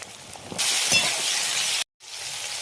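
Potatoes, onion and green chili frying in a pan for a Bengali chickpea bhuna, a steady broadband sizzle that jumps louder as ingredients drop in, with faint stirring clinks, a brief silent cut, then the sizzle resumes.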